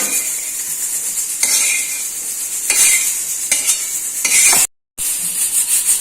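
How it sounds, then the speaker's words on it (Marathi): Onion dry-roasts without oil in a pan for mutton rassa, giving a loud, near crackling sizzle cut by several heavy scraping strokes of a metal spatula, then a brief moment of silence before the frying resumes. "आपला कांदा भाजत आलाय, आपण तो आता काढून घेणार आहोत।"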